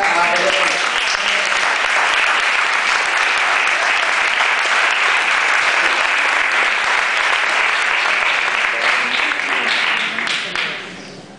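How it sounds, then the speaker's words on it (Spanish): At an awards gala, a crowd applauds loudly and continuously for Gary, a student receiving a prize; the dense clapping holds for about ten seconds before trailing off quickly at the end. "un forte aplauso para Gary"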